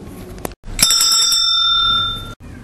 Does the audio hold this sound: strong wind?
no